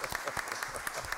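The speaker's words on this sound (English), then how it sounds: "we do owe you a round of applause" Brief applause at a city council meeting, a quick patter of scattered claps from a small audience in a hall.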